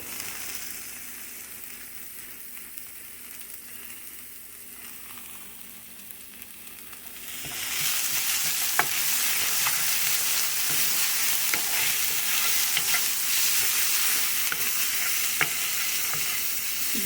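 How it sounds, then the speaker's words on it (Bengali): Onion added to garlic already frying in oil starts a loud, steady sizzle partway through, with a quiet low bubbling beforehand and occasional sharp scrapes and taps of a spoon stirring in the pan. "এবার রসুনের সাথে পেঁয়াজটা দিয়ে দিচ্ছি পেঁয়াজটাকে একটুখানি ভেজে নেব"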